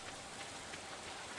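Rain in the farming game Stardew Valley, a soft, even patter of drops falling on a surface, steady and quiet with no other sounds.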